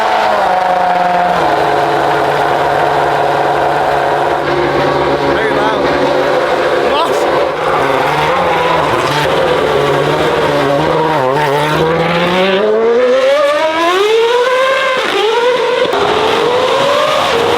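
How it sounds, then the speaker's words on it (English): A very loud drift car revs hard on Dublin city streets during a drifting event, its engine roaring continuously and sweeping up and down in pitch, with crowd talk partly under it. "that is the f***ing loudest car I've ever heard"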